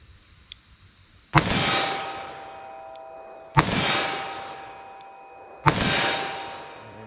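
Three .357 Magnum rounds strike a steel target one after another, each a sharp metallic clang ringing out and slowly decaying, spaced about two seconds apart with no talking.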